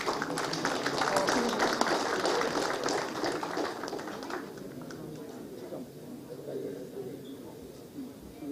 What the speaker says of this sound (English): So I request the audience to please welcome the artists by giving a big round of applause.